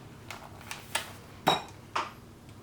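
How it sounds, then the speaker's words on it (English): A whisk strikes the side of a bowl as an egg is beaten into cookie dough, giving about six separate metallic clinks spaced a bit unevenly, close and fairly quiet. "now we're going to add 1 large egg and whisk it in"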